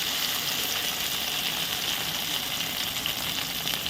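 Tamarind frying in hot oil for an egg gravy curry, a steady, close sizzle with a bright hiss that carries on evenly without pause.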